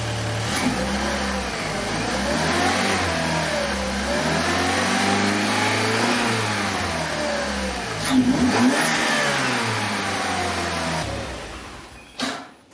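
A 2008 Chevy Cobalt engine with a newly installed turbocharger starts and revs steadily up and down at close range, rising and dipping repeatedly, then cuts off abruptly near the end.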